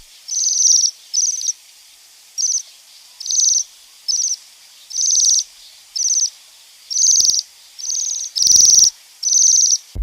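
A Bohemian waxwing sings a string of about a dozen high, buzzy trilled calls in a steady rhythm, close and clear against near silence.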